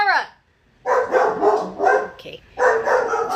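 Dogs barking indoors at home, a few loud yapping barks in bursts close by, mixed with a person's speech.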